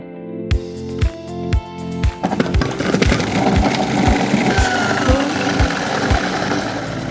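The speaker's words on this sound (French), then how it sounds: "On va retirer le cœur et on va les broyer au robot-coupe." A Robot-Coupe food processor grinds halved oranges that have been blanched three times, starting with a few pulsed thumps before settling into a loud, steady mechanical whir and churn.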